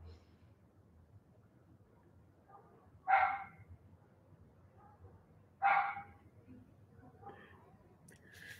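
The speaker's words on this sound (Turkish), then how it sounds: "Ya köpeğin sesini duydunuz devamlı." Two sharp barks from a dog at a moderate distance, spaced a few seconds apart, over a quiet low background hum.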